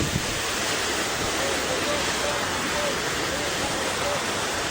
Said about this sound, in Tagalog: Ang bagyo.